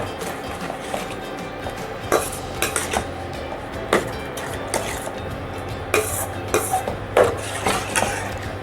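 Broken wheat halwa, now turning orange, being stirred in a pan: irregular clinks and scrapes of a spoon against the metal over a low steady hiss, close and moderately loud.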